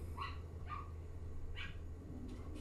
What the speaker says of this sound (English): the dog loses his mind like she just vanished into the thin air